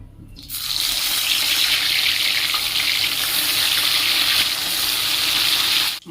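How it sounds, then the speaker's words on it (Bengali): A steady, loud sizzle of fish frying in hot oil starts suddenly and continues without a break. "মাছগুলো ভাজার জন্য একে একে ছেড়ে দেবো"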